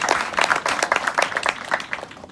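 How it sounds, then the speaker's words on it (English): Applause from a small audience at a house party in a private home in Vista, a steady patter of hand claps lasting throughout, fairly close and lively, with no talking over it. "Can we give a big round of applause to our host, Jennifer?"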